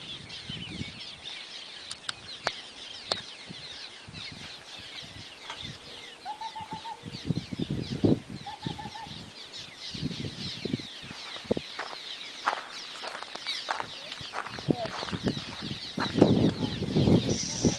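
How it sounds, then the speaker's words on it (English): Cliff swallows caught in mist nets flap and flutter in irregular bursts of wing beats, with sharp bird calls mixed in, fairly close and busy throughout. "See the birds trapped in the mist nets."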